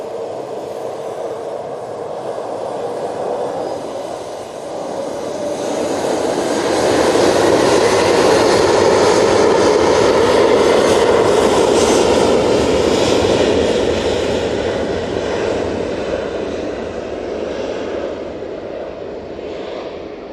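A Finnair jet airliner takes off at Manchester Airport, its engine roar swelling to a loud peak mid-way and then slowly easing off, with no voices over it.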